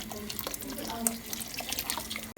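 Milk pours into a pot of Turkish ashure cooking with dried figs, raisins and rice, a close, continuous liquid splashing and trickling, with a voice in the background.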